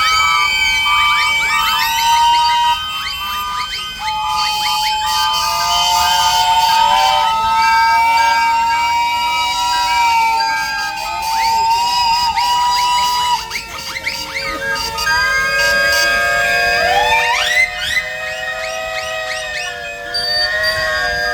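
Several steam engine whistles at a steam fair and vintage rally blow together in long, overlapping, pitch-shifting blasts, loud and sustained for the whole stretch, with a few brief dips between pulls.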